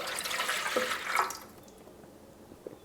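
A cup of water poured into a wireless pet water fountain, a short close splash and trickle lasting just over a second, followed by quiet with a faint drip.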